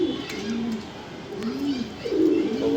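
Female racing pigeon cooing close by in soft, rolling, repeated coos that swell and fade, with faint background noise and no clear talk over it.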